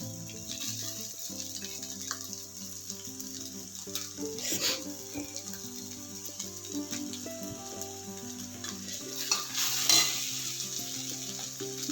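Onions and grated coconut sizzle and are stirred in a pan for a chickpea usli, a close, steady frying hiss with scraping spoon strokes and a few clinks, while music plays underneath.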